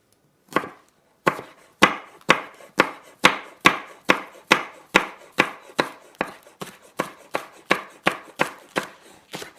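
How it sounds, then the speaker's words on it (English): A knife chops green onion on a cutting board in quick, steady strokes, about twenty sharp knocks with no talking. "We can practice our chopping skills here too."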